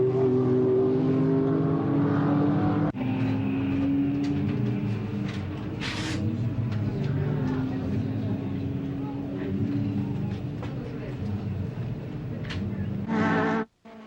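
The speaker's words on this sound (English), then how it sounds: "The open exhaust of a racing engine can be heard as loud noise." A racing car engine with an open exhaust roars loudly and steadily for most of the stretch, with a voice talking over it before it cuts off abruptly near the end.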